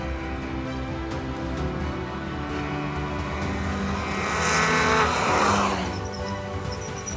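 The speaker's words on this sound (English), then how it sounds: "So we're driving the new 2016 uh, MX-5 Cup car, and uh, nobody's driven it yet." A 2016 Mazda MX-5 Cup race car drones steadily on track at high revs, its engine note swelling louder as it passes, then fading, with no talk over it.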